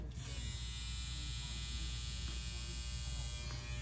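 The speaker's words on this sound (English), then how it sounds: "This is the sound." An Andis Phenom electric hair trimmer runs with a steady, even buzz, fairly quiet and close, with no change in pitch throughout.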